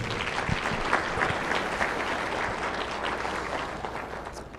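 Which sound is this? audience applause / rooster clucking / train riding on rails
audience applause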